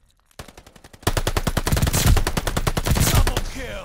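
Rapid shotgun blasts boom in quick succession in Call of Duty MW2 multiplayer, loud and close: a few sparse shots first, then a dense run of repeated gunfire for several seconds.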